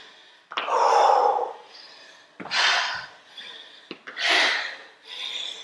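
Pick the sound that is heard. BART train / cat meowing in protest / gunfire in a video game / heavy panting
heavy panting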